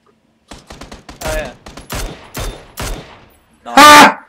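Gunfire in PUBG, loud and close: a rapid string of sharp single shots, a pause, more spaced shots, then a final heavy burst, with no talking over it.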